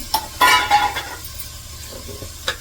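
Soaked chickpeas tipped into a pan of ground masala and stirred, with a few metallic clinks of spoon against pan and a soft sizzle underneath, close and fairly loud at first, then settling into quiet frying.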